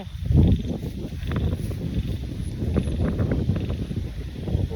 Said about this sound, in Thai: ว่าจะมากรีดยางวาสันฝนก็มาอีกแล้ว ลมวอยวอย